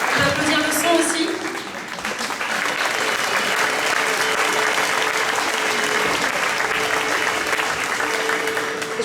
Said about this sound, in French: On peut applaudir le son aussi.